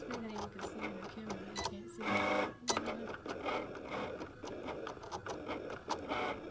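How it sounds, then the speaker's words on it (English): A Cricut plotter cutter cuts a logo stencil, its carriage whirring and ticking in quick, busy back-and-forth strokes with one longer sweep in the middle. It plays at moderate volume and stays close throughout. "Here's that Cricut in action."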